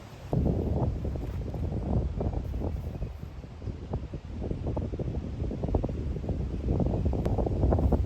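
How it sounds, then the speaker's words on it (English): Steady wind blowing across an open disc golf course, a continuous low buffeting rush with rustling gusts close on the microphone, no voices. "Wind's coming off of this side"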